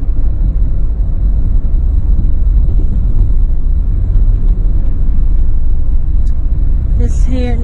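Steady low road and engine rumble from inside a car driving through the residential village of Hill Neck in Oyster Bay, Long Island, continuous throughout with a brief higher sound near the end.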